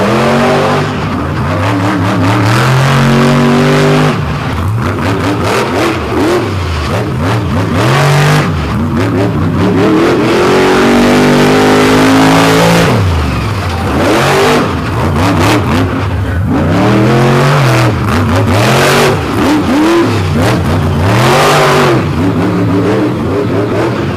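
A drag-racing pickup truck roars through a truck pull run, the engine revving hard and loud for the whole stretch, with its pitch repeatedly climbing and dropping as the throttle surges under load.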